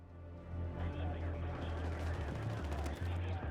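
Continuous automatic gunfire and shots in the Battlefield 6 beta video game, loud and dense, with a low rumble underneath and a person talking over it.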